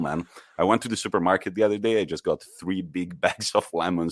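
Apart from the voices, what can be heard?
No distinct noise like a dog, phone or traffic.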